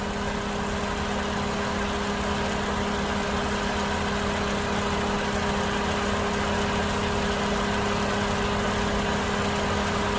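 A 2005 Honda Jazz 1.5 E with the 1,500 cc i-DSI engine idles steadily and smoothly, a constant even hum with no revving, heard alone without any voices.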